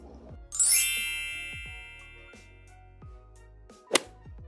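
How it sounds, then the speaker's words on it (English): A notification bell sound effect rings out in one bright, shimmering ding that slowly fades, followed a few seconds later by a short sharp whoosh, with soft rhythmic music underneath and no talking. "Please hit the notification bell so you're notified every time I upload a video."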